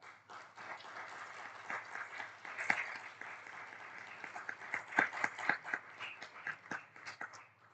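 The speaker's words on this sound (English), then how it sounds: "Let's everyone give them a recognition and clap." A modest crowd in a conference hall claps in recognition, loose and uneven with distinct individual claps standing out over a low hum, swelling and fading across several seconds and heard from some distance.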